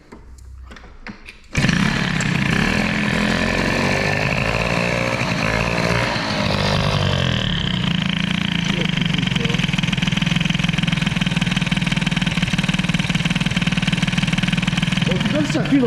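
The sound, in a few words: Peugeot 103 moped engine idling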